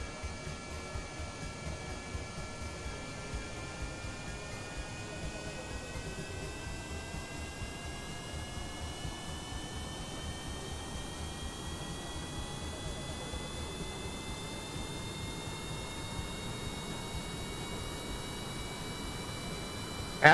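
Aircraft engines in reverse thrust in Kerbal Space Program make a steady, loud jet roar with a broad noisy hiss and a slowly rising whine, holding without a break for about twenty seconds.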